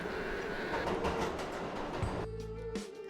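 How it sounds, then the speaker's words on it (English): Tram rolls through underground tunnels with a loud rumbling clatter of wheels on rails, ending in a deeper low roar with squealing tones as it slows. "the tram slowed down and entered a vast, dimly lit underground station"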